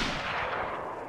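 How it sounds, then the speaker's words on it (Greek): Dense gunfire in the video game DayZ, a continuous loud burst of broad, noisy crackling with no gaps, filling the whole moment without any voices. "αυτοί τώρα ακούσαν τους πυροβολισμούς"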